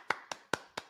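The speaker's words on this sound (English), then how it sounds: "Golf clap for the chat." A slow, quiet golf clap: four soft, evenly spaced hand claps within about a second, with nothing else heard.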